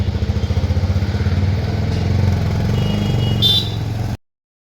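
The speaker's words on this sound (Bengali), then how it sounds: "বাইকটা বের করতে অসুবিধা হয়" A motorbike engine putters close by, revving steadily and then pulling away, ending abruptly in silence.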